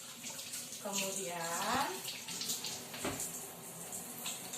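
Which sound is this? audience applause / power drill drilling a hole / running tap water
running tap water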